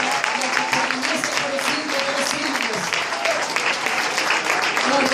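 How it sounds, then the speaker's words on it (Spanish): Church congregation clapping in worship, sustained crowd applause throughout with a voice speaking over it. "Dale una ofrenda de palmas al que vive."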